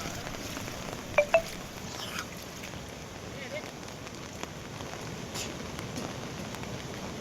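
Heavy downpour over Medak town during flooding makes a dense, steady roar of rain on surfaces, with a few sharper drips and clinks close by and no voices.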